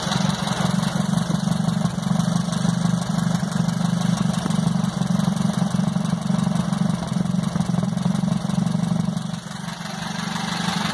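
A small engine runs steadily with a constant low drone, steam venting from its exhaust, close and loud, dipping slightly near the end.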